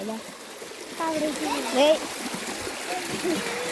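Water runs in a canal and falls in a strong flow under a structure, a continuous rushing splash. A voice talks over the water throughout.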